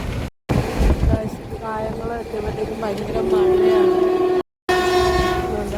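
A passenger train running between Kollam and Thiruvananthapuram rumbles along steadily, its horn sounding in long loud blasts amid the clatter of the carriages.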